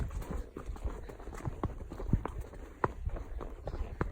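Steady clip-clop of hooves walking at an even pace, soft and close, over a continuous outdoor background hiss.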